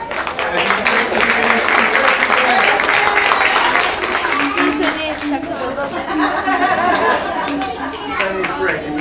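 An audience at a magic show claps and cheers for a child volunteer, a loud, dense burst of applause that swells at once and then thins, with children chattering and laughing through it.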